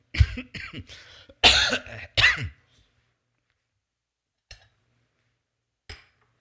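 A close burst of several harsh coughs in quick succession, followed by quiet broken by two faint, brief knocks.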